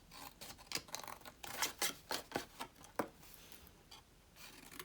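Paper box corners are cut and notched, giving a string of quiet, crisp snips and rustles in an irregular rhythm that clusters into quick bursts, close by and with no talking.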